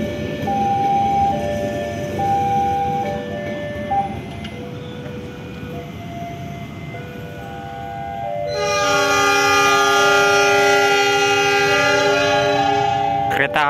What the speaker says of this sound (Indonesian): Kereta api Gajah Mada tambahan relasi Jakarta Gambir dengan tujuan akhir stasiun Malang, diberangkatkan dari stasiun Yogyakarta tepat pada pukul 7:47.